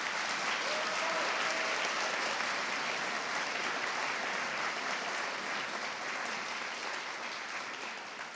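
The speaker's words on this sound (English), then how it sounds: "please give your teachers a round of applause" Sustained applause from a large crowd at a high school senior honors night, steady and dense clapping filling the whole stretch, tapering only slightly at the end.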